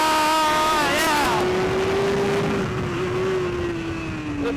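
BMW racing motorcycle on the Thunderhill track near full throttle, a loud sustained engine whine holding a steady pitch with gear-change warbles early on, heavy wind roar underneath.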